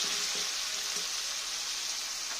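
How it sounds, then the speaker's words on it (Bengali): Onions fry with salt in a pan, giving a steady, close sizzle with a few soft stirring knocks near the start. "পেঁয়াজটা একটু ভাজা ভাজা হয়ে এসছে।"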